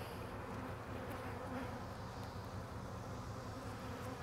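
A dense, steady buzzing of many honey bees at a hive fills the air, continuous and even throughout with no voices.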